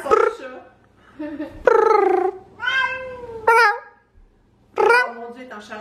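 Drawn-out, yowling cat cries repeat up close, loud and insistent, each call rising and falling with brief silences between, from a cat in heat.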